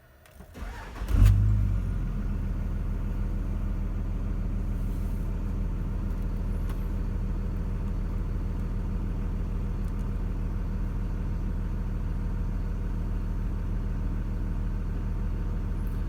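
A Cummins diesel engine cranks and catches, then settles into a steady loud rumbling idle that continues unchanged, close by.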